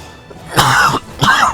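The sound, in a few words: coughing and throat clearing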